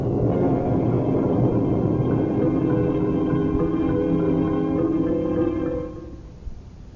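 Thunder and rain effects in a radio drama about Alexander and Zeus, a dense continuous low rumble with a hissing wash of rain that holds steady, then cuts off abruptly near the end, leaving near silence.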